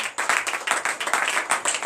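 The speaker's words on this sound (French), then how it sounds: "donnez l'acclamation à l'Éternel." A congregation at a church service claps together in quick, steady rhythm, loud and close, with no talk over it.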